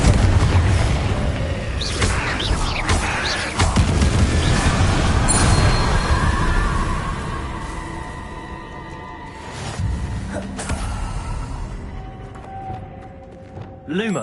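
Confringo blasting spell in Hogwarts Legacy, a heavy booming burst with rumbling debris at the start that tails off into quieter game ambience and scattered magical effects.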